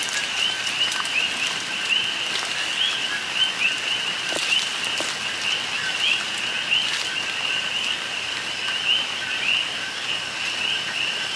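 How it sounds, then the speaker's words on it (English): Light rain falling steadily outdoors on a Puerto Rico farm in the aftermath of Hurricane Fiona, a soft continuous patter with occasional drips, accompanied by persistent insect or frog chirping in the background. "Still raining a little bit."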